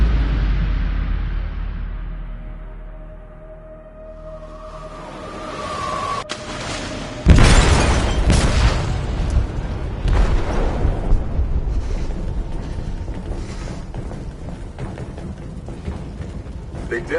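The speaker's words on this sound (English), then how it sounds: "They detonated an explosive in the hold" An explosive detonates in a ship's hold in the video game Detroit: a heavy boom strikes after a quieter rumbling stretch, followed by sustained crashing, creaking and roaring debris noise.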